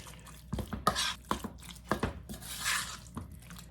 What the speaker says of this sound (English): I'm adding in our drained minced pork and just give this a stir